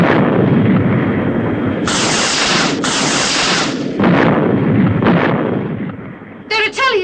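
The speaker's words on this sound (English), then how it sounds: "The missiles are bursting well clear." Missiles bursting in a run of loud, close explosive blasts with broad rumbling booms, partly dying away before a final sharp burst.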